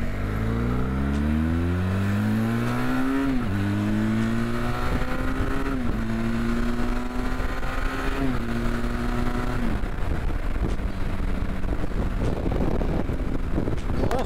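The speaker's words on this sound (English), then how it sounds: "this is a comfortable bike to cruise on" Benelli TRK 502X motorcycle engine droning steadily while riding, pitch climbing through gears with brief drops at each shift, loud and continuous with wind noise, no talk.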